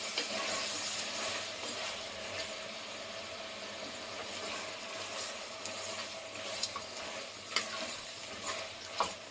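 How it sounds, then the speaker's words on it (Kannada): Chilli powder frying gently in a pan over a low flame for a chicken sambar, a steady soft sizzle running throughout with occasional faint clicks of stirring. "ಸಣ್ಣ ಉರಿಲಿ ಫ್ರೈ ಮಾಡ್ಕೊಳ್ಳಿ."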